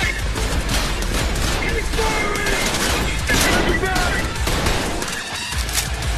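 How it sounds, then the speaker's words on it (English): A grenade explosion and gunfire in the shooter game Trepang2 form a dense, continuous barrage of loud blasts and shots throughout. Someone talks over it. "He's throwing a grenade."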